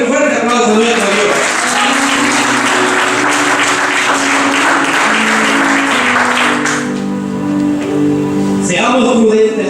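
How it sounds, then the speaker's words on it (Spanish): A church congregation applauds at a worship service, a dense sustained wash of clapping with steady sung or played tones underneath, fading toward the end as the clapping thins. "Denle un fuerte aplauso a nuestro Dios."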